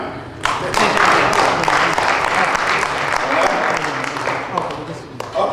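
Audience applause at an SPLM NE Chapter political gathering: loud, dense clapping from a crowd that starts abruptly, holds strong and slowly thins toward the end.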